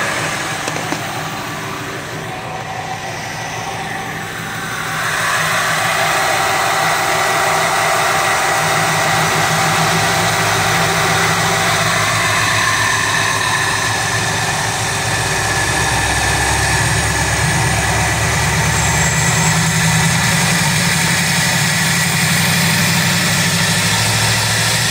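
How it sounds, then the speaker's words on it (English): A 383 stroker V8 idles, then its idle is raised around the five-second mark to a steadier, louder running speed held near 3,000 RPM. The engine is close and continuous with no talk. "I'm going to crank up the idle and we're going to see where we're at."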